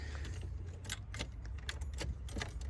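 Car keys jangle and rattle in the ignition of a wrecked car, a run of close metallic clinks repeating in bursts over a steady low rumble.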